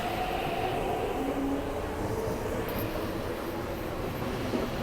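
An MTR R40 metro train rumbles steadily nearby as it pulls away, a continuous loud roar with faint squealing, and no voices.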